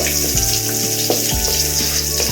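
Onions sizzle steadily in a hot pan for Tamil-style egg rice, a loud continuous fry with a few soft clicks of a spoon against the pan.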